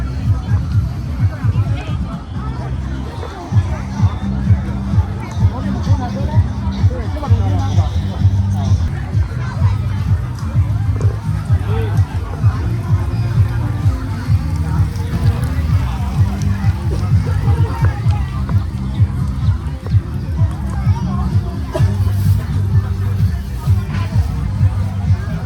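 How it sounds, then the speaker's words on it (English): Large crowd at a hot, packed Chinese temple fair, a dense, steady babble of many voices mixed together with nearby talk and a low rumbling background throughout. "These crowds are unbelievable. It's over 90 degrees outside, and there are still this many people walking around the fair."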